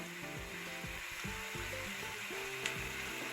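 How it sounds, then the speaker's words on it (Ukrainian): Steady sizzling of cabbage added to already-fried vegetables in a pan, a continuous crackling hiss with faint clinks and scraping underneath. "перекладаємо капусту до смажених уже овочів."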